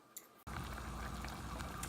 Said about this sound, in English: So I'm just going to let it boil, then put it down low and come every now and then to stir it around so it doesn't burn on the bottom.